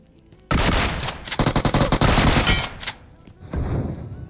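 Rapid bursts of automatic gunfire from the battle royale game BGMI crackle loudly and up close, a dense volley of shots followed by a brief pause and a fainter, scattered burst.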